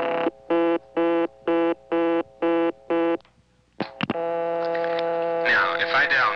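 An XY step-by-step telephone exchange answers a dialed digit with seven evenly spaced tone bursts, then a short quiet gap, a couple of clicks and a steady sustained tone over faint mains hum.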